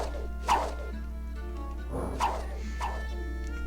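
A sea dog in the strategy game Dominions 4 barks three times, sharp yelps spaced about a second or more apart over a low steady hum.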